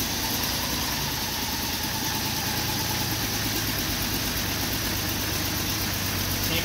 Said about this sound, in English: I'm just going to start it up, and we'll see, or you guys can hear how it runs